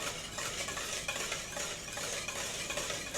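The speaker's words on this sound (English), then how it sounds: "I'd say you're probably going to stir it for maybe 2 minutes" Lye being stirred into water in a container to dissolve it for soap making, a steady close swishing and scraping that runs continuously with no voices.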